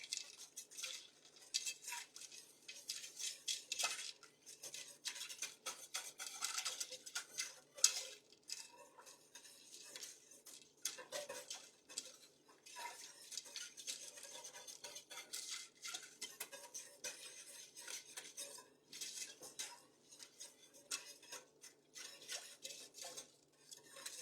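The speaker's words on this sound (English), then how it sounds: "I'm going to give it a stir" A spoon stirs a brine mixture with ice cubes in a pot still warm from the stovetop, giving faint, continuous clinking and scraping with scattered light knocks, quiet and close, without talk.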